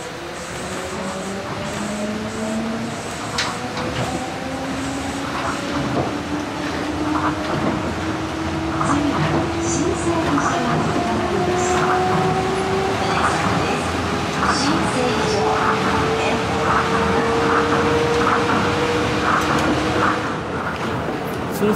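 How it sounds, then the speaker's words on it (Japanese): A steady Tokyo Monorail motor whines with rising and falling tones over a constant rumble of wheels on track, loud and continuous throughout. "こちらの列車なんですが、モーター音が非常に懐かしい音がしました。"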